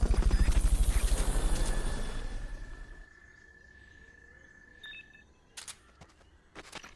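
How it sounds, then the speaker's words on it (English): A Fulton recovery helicopter from Metal Gear Solid: Peace Walker gives a loud, rhythmic rotor thumping that fades away after a few seconds, leaving a quiet bed with a thin steady tone and a few sharp clicks. "Fulton recovery subject confirmed onboard helicopter"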